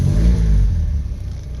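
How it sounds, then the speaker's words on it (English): A small car's recently cleaned engine revs loudly and close in a deep rumbling surge that eases back down over under two seconds, with no voices. "Let's rev her up"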